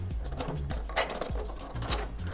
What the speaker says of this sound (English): unlock and open the printer